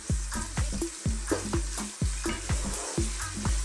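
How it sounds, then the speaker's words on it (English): Onions fry on high heat for a cauliflower curry, a steady sizzle punctuated by regular, close scraping stirs of a utensil in the pan, roughly two per second, with no talking. "we're going to cook these onions for about 3 to 4 minutes"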